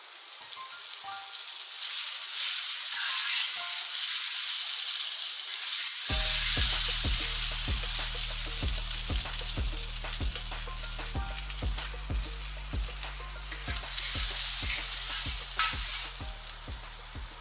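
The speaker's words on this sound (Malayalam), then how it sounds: "ഇനി നമുക്ക് ഒരു പാൻ അടുപ്പത്ത് വെച്ചിട്ട് കുറച്ച് ബട്ടർ ഇട്ട് കൊടുക്കാം." Butter sizzles and crackles in a hot pan on the stove for French toast, starting as a loud steady hiss, then joined by a series of sharp, close clicks and taps of a utensil against the pan, with no talking.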